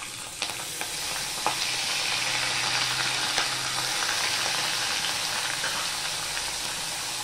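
Slit green chillies and ginger paste fry in hot oil in a pan, giving a steady, close hiss of sizzling with a few faint clicks of a spoon, and no talking.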